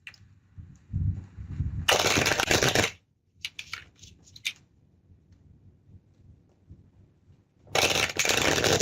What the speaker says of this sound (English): In the meantime, I will begin shuffling my cards.